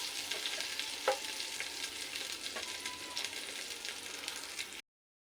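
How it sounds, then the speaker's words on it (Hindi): Green chillies frying in a pan with whole spices for chicken pulao, a steady close sizzle with occasional stirring clinks, ending abruptly. "डालने के बाद आपने ये हरी मिर्चें डाल देनी है इसमें।"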